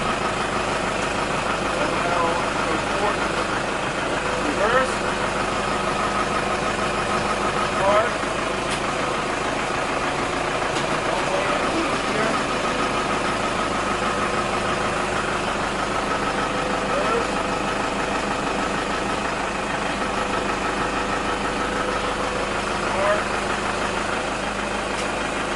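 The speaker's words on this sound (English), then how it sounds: "Handbrake off and go forward" A Toyota Hilux truck with a repaired gear selector runs as it moves forward, its engine giving a steady mid-pitched hum throughout with a few faint knocks and clicks, and no clear change in pace.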